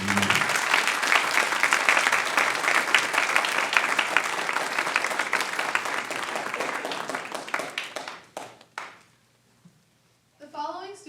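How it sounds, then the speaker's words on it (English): A crowd claps steadily through a music honor society induction ceremony, the applause holding loud for about eight seconds before thinning into scattered claps, with a voice briefly returning near the end. "Another applause for you."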